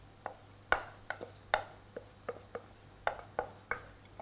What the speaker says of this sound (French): je vais pouvoir la verser d'un coup dans ma casserole